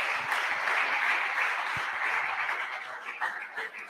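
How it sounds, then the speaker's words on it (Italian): Audience at a Sardinian sports awards ceremony applauding a football club, a sustained wash of many clapping hands that fades gradually toward the end. "Latte Dolce dopo solo un anno, un applauso."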